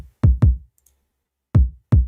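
Kick drum sample played dry, without high-end enhancement: four punchy, booming low thumps in two quick pairs separated by a short gap, clean and isolated.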